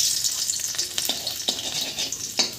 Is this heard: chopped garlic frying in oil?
yes